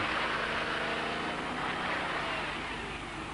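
A Land Rover engine drones steadily as the vehicle climbs a slope in fourth low gear, a constant close rumble with broad road and wind noise and no talking.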